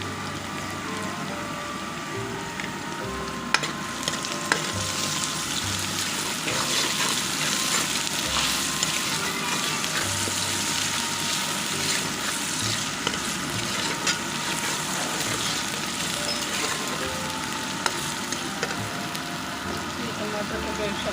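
Onions sizzle steadily in hot oil with ginger garlic paste for a goat intestine curry, a continuous close frying hiss throughout with some spoken voice over it.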